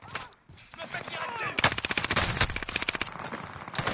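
Rapid automatic gunfire in a multiplayer shooter video game rattles in dense bursts, loud and close, with a player's voice briefly heard at the start.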